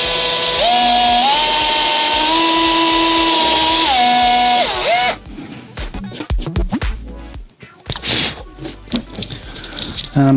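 A power drill with a 6mm pointed bit bores into a wooden guitar neck blank, whining steadily at high pitch with its tone rising and falling, then stops, followed by scraping and clattering handling noises.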